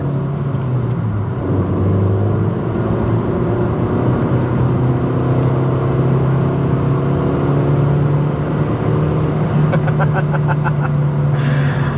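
A 2005 Ford Focus Mk2 hatchback drives along twisty roads, its engine droning steadily from inside the cabin with a loud, continuous hum and no one speaking.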